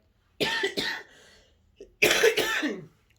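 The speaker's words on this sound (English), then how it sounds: "My apologies for my coughing." Two bursts of harsh coughing, a pair of quick coughs followed by a louder double cough after a short pause, close to the microphone.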